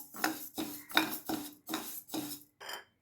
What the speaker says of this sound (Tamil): இந்த ஒரு கப்பு சிவப்பு கவுனி அரிசை வறுக்க போகிறேன்